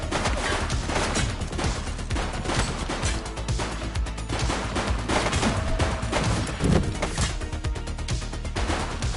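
Sustained gunfire from the video game The Precinct, dense bursts of shots cracking loudly and continuously with a heavier impact near the end, no voices over it.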